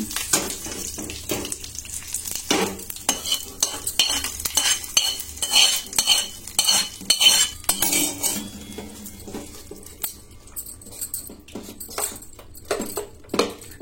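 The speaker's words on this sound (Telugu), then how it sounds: "పోపును చట్నీలో వేసి కలుపుకుందాం." A spoon stirs a tempering of chillies and coriander into peanut coconut chutney in a pot. A steady series of clinks and scrapes against the vessel comes with light sizzle in between, the taps getting sparser toward the end, with no talk.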